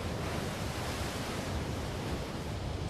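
Surf rolls in at a Surfest 2020 surfing contest beach with small, fun waves, a steady wash of white noise that holds constant and fairly loud throughout, with no pauses or distinct breaks.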